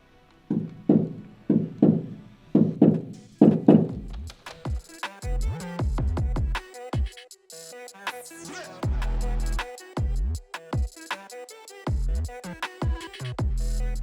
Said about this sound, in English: you can hear like the reverb from the door